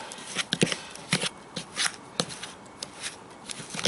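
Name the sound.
hand-mixing fishing ground bait with juice into a paste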